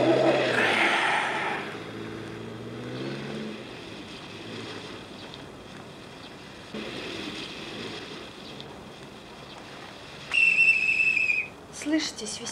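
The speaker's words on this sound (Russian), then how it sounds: "Слышите, свистят?" A tonal whistle rings out near the end of an outdoor scene, short and fairly loud over a low rumbling background, with voices talking earlier.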